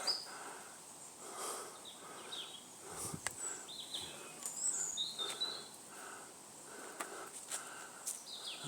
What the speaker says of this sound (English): I can't zoom in, but birds in the trees.